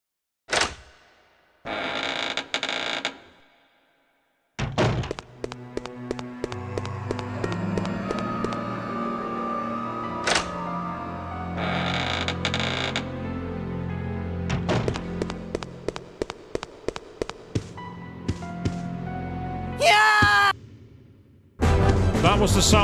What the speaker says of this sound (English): That was the sound of Steve activating a trap.